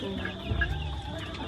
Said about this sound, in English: These are the chickens that will be ready like in what, 2 weeks?